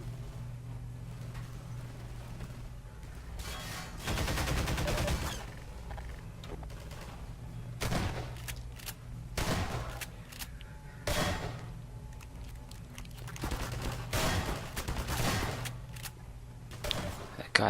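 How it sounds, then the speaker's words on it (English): Sharp, scattered gunshots from firearms in Half-Life 2: Update, a few loud bursts spread irregularly across the stretch over a steady low game hum, with no talking. "Guys somehow managed to shoot through the dumpster"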